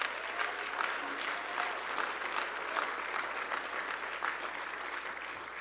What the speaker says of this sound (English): Another round of applause for LULAC, please.